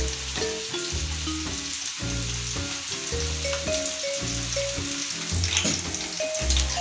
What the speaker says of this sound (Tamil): இந்த சூடான எண்ணெயில் இதில் வந்து நான் இன்னும் கொஞ்சம் வெங்காயத்தை வந்து நான் பொரிச்சு எடுத்துக்கிறேன்